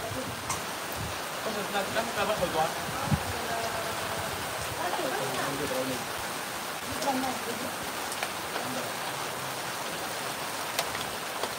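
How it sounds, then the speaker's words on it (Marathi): Heavy night rain falls in a rural village as a steady, moderate hiss of drops on surfaces, with people talking faintly over it at times. "लई पाऊस आहे भरपूर मोठ्या प्रमाणात"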